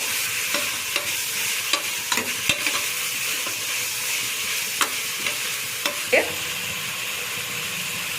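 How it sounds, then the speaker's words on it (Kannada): Fenugreek leaves fry in hot oil with a steady sizzle, while a utensil stirs and taps against the pan in irregular knocks throughout. "ಮೆಂತ್ಯ ಸೊಪ್ಪು ಸ್ವಲ್ಪ ಫ್ರೈ ಮಾಡ್ಕೊಳ್ಳೋಣ."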